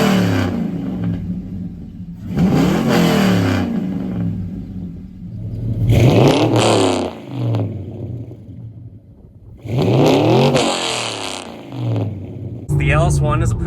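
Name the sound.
Pontiac GTO LS1 pushrod engine accelerating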